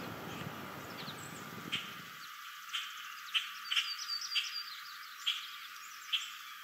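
A warbler sings faintly in the distance, thin high phrases repeating at intervals over quiet background hiss after a brief rumble of low noise fades out.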